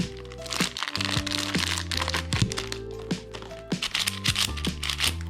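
A knife cuts open the plastic wrap on a MoYu puzzle cube box during an unboxing: close crackling, crinkling plastic with sharp snaps, set against a tonal musical background.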